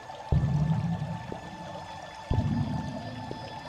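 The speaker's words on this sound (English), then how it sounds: "A marble fountain churned sparkling clean water." A marble fountain churning clean water in a lavish dining room: two separate bursts of pouring, splashing water, each fading back to a quiet steady hum.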